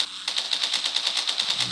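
Rapid automatic gunfire from a video game, a steady rattling burst of evenly spaced shots lasting over a second, crisp and close with little else around it.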